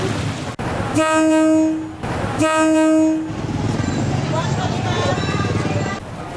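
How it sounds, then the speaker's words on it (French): A train passing through a market in Thailand sounds two long loud horn blasts, then rumbles and clatters nearby as it rolls through, with voices in the background. "Après quelques coups de sifflet, le train annonce son arrivée"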